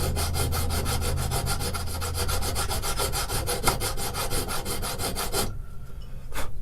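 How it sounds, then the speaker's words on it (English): A diamond crowning file strokes rapidly back and forth over the frets of an acoustic guitar, making a close, rhythmic rasping scrape that stops briefly near the end before one last stroke, with no voices. "it really doesn't take much with the diamond crowning file"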